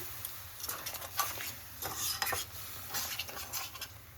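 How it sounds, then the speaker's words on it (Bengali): A spoon stirs vegetable curry in a pan after water has been added, giving scraping, clinking strokes against the pan over a soft sizzle, close and moderately loud with no talk. "এখন আমি একটু জল দিচ্ছি যাতে করে একটু মাখা মাখা হয়, তার জন্য ভালোভাবে মিশিয়ে নিচ্ছি।"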